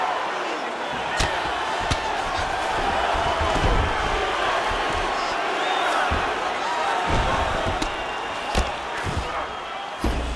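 Steady roar of an arena crowd cheering at a UFC 5 video game bout between Khabib Nurmagomedov and Georges St-Pierre, a dense continuous wash with occasional sharp thuds from the fight, running loud throughout.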